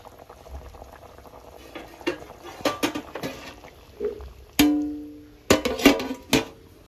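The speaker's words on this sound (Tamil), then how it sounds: "நல்லா கொதித்து தண்ணி இந்த தேங்காய் பால் எல்லாம் வற்றணும்" Kerala-style coconut milk chicken gravy boils in a pot in a home kitchen, bubbling and popping quietly, with sharp clinks and a ringing knock of a utensil or lid on the pot at intervals.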